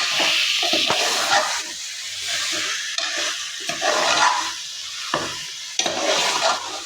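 Mutton pieces sizzle and sauté in hot groundnut oil inside a pressure cooker, a steady loud frying hiss broken by repeated stirring scrapes and clatters.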